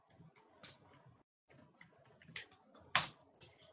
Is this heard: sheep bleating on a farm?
no